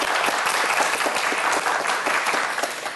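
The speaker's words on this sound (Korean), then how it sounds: "저희 또 역시 잘 풀어달라고 박수 한번 보내주세요." A studio audience at a televised science quiz show breaks into dense, sustained applause, loud and steady throughout, with no one speaking over it.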